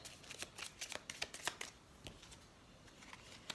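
Tarot cards drawn from a deck, giving soft papery flicks and riffling snaps in quick irregular clusters, faint and close, with no talking.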